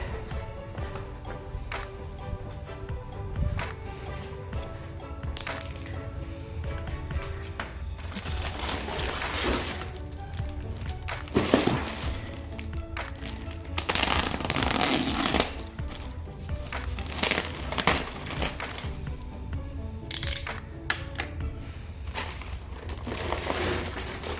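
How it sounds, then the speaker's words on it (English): A plastic bag holding all-weather floor mats for a Lexus RC being ripped open and handled, with sustained close crinkling and crackling that swells in louder bursts over about twenty seconds. "Now let's rip open this bag of goodness."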